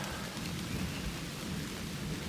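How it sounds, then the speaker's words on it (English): Steady heavy rain from a thunderstorm hissing over everything in the 100 Mile Wilderness on the Appalachian Trail, with a low rumble underneath, a continuous wash of storm noise without any voices. "as you can tell, we've gotten into a thunderstorm"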